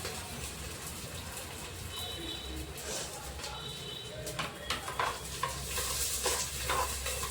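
Onion frying in hot oil as a tempering for a mushroom curry gives a steady, moderate sizzle with stirring, and faint bird calls sound in the background throughout.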